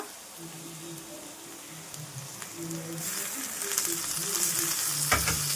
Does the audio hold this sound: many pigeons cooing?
no